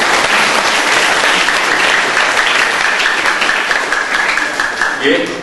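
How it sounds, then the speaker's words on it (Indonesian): Loud, dense applause fills a mosque hall in Indonesia as the audience at a book discussion claps for the author, a sustained wash of many hands that tapers slightly at the end. "Tepuk tangan untuk penulis."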